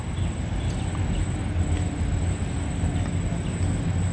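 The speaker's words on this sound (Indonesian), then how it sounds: "sebentar lagi segera melintas di sini kereta api lokal Garut Cibatuan" Garut–Cibatuan local train passing on a mountain line, a steady close rumble of wheels and rails lasting throughout with a faint high whine above and insects chirping in the background.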